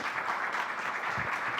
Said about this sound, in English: I want to please everyone give a round of applause to Hannah Poferl for joining us today